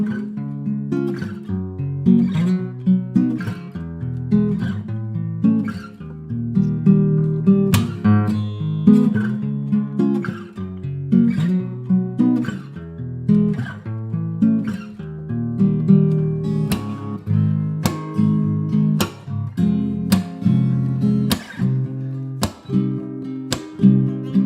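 A slow new tune built on chords close to those of another song, played alone as steady, evenly spaced chords with a clear tonal backing, moderately loud and without any talk.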